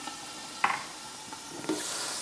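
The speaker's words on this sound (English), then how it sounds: "Go ahead and add a 1/4 cup of red wine to that." A quarter cup of red wine hits a pan of cooked onions and ground lamb, giving a brief hissing sizzle with a sharp splash and a clatter of stirring.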